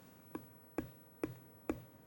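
Soft part of a thumb hits a bass guitar four times at a steady pace, muted thuddy taps heard up close but quiet, each with a short low ring.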